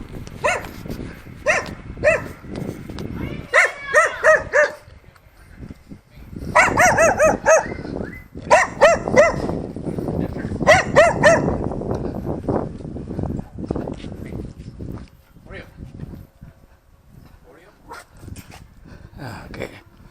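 A small dog barks in the background in short clustered bursts of yaps and yips, some whimpering between, fairly close and recurring throughout with faint room noise.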